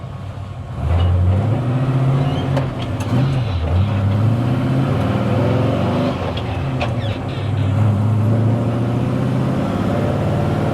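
A 1967 Toyota FJ40 on 37-inch tires drives along with a steady, loud engine drone heard from inside the cab, its pitch rising and dipping through gear changes, with no talk over it.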